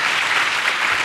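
An audience at a French talk on feeding a metropolis applauds in a steady, dense burst of many hands clapping together, close and fairly loud throughout a brief moment with no speech.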